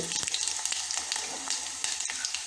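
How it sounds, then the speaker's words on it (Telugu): Mustard seeds, cumin and urad dal tempering in hot oil with green chillies, a steady close sizzle with small crackling pops and brief stirring scrapes, no voices. "ఎండుమిరపకాయలు, 2 రెప్పలు కరివేపాకు వేసి వేగించుకోవాలి."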